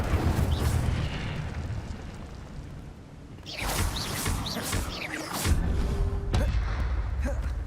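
Incendio fire spell cast in Hogwarts Legacy, a loud whooshing burst with crackling flame and booming impacts, close and sudden after a quieter rumbling stretch, with further bursts following.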